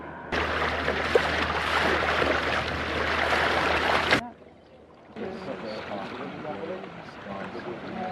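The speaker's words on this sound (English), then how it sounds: "We're on a felucca on the Nile at Aswan, and sailing across to the tombs of the nobles" Wind and water rush loudly around a felucca sailboat on the Nile at Aswan for about four seconds, then drop to a softer, steadier wash of water against the hull.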